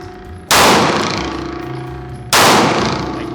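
Two loud, sharp pistol shots from a Sig P320 at an outdoor range, spaced nearly two seconds apart, each with a ringing metallic decay.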